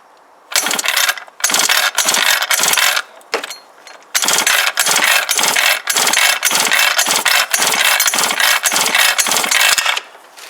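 A small two-stroke engine on a kids' motocross bike, held upside down with the throttle wide open, is cranked for a compression test: loud, close mechanical whirring in a run of short bursts with brief pauses, no speech.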